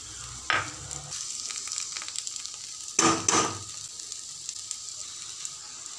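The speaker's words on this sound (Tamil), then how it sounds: "1 பெரிய வெங்காயம் சேர்த்து வதக்கிடலாம்" Onion, ginger and chillies sauté in a pan for a black sesame seed chutney. A soft, steady sizzle runs throughout, broken by two brief clattering bursts of stirring against the pan.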